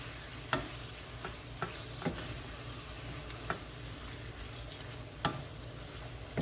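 Steak with seasoning frying in a pan, a steady soft sizzle punctuated by several sharp scraping clacks of a utensil as it is stirred, close up with no talking.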